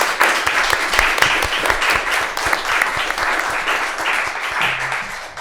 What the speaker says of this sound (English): could everyone please give a round of applause to our candidates?